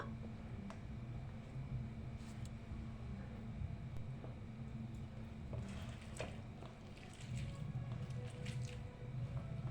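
Warm boiled olives are squeezed by hand to pop out their pits for pickle, giving faint, soft wet squishes over a low, steady background hum.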